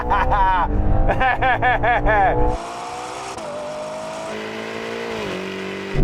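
Ferrari Purosangue accelerating hard from a race start, engine rising in pitch and pulling away amid a steady roar, with people talking and laughing over it early on.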